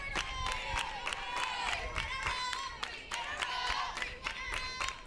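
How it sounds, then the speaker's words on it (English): A crowd at a college softball game cheers and claps, bright voices in steady bursts with rhythmic handclaps, moderately distant and continuous throughout. "And the cheer afterwards,"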